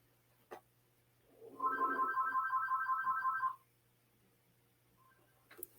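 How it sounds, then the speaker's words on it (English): An electronic phone ringtone trills as a short, repeating warble burst lasting about two seconds, moderately loud in a quiet room with a low steady hum, with a couple of faint knocks before and after. "Even the phone's ringing and everything."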